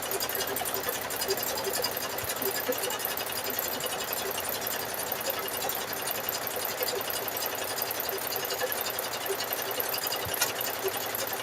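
A sewing machine runs continuously, stitching variegated purple-and-green thread through fabric-wrapped rope to build a bowl, with a dense, steady mechanical whir and no pauses.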